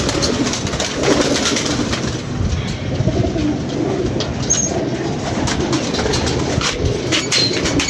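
Pigeons coo steadily over a noisy outdoor backdrop during bad weather, their soft calls blending into a continuous wash of ambient sound with no pauses.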